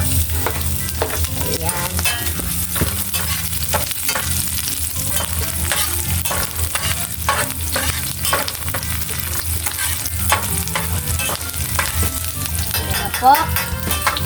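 Onions frying in a pan of oil for fish sarciado, a loud, constant crackling sizzle with frequent sharp pops, while someone talks briefly over it.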